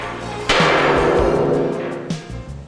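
A hammer pounds welded metal sections of a large sculpture being reassembled, giving two loud ringing metallic strikes about a second and a half apart, each leaving a long resonant decay.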